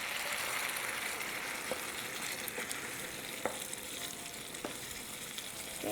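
Sauce sizzles in a pan with nopalitos for a Mexican rib dish, a soft, steady frying hiss with a few faint clicks of stirring, heard alone at a distance.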